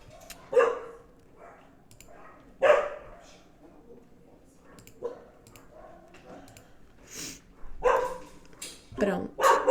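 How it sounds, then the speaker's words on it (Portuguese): A pet dog, Fox, barks in several scattered bursts from nearby, mixed with a voice talking at home. "meu cachorro tá latindo"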